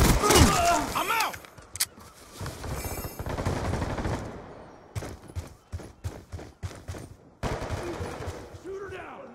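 Video game gunfire with irregular bursts and single shots mixed with explosions and shattering impacts, dense at first and then broken into separate sharp cracks, with shouting voices under the chaos.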